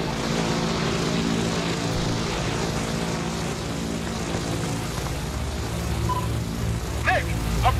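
A propeller airplane rolling out onto a runway in the video game Battlefield Hardline, a steady loud engine drone with a constant low hum throughout and a faint voice near the end.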